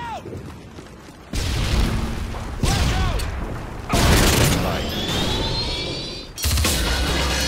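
Frag grenade explosions in a video game shooter, several loud booms in separate bursts, each with a sharp onset and a ringing tail, alongside whistling tones and radio-style game voices.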